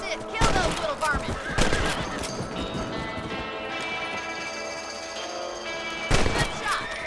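Rifle shots ring out in the Red Dead Redemption video game, several loud, separate cracks spaced seconds apart over a rural soundscape with faint hooves and some background voices.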